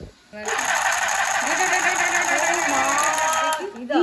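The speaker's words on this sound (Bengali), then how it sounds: "সুন্দর সেলাই হচ্ছে" A small battery-powered handheld sewing machine buzzes steadily as it stitches fabric, a close, continuous whirring hum running for about three seconds, with voices heard around it.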